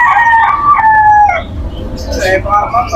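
A Golden Boy line gamefowl rooster crows close and loud in one full cock-a-doodle-doo, followed by clucks and shuffling, with other birds and a voice faintly in the background.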